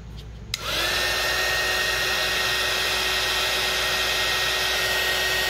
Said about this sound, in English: Now that the heat tool's hot, let's see.